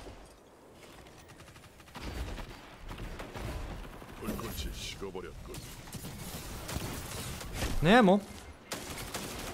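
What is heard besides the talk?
weapon gunfire in Destiny 2 video game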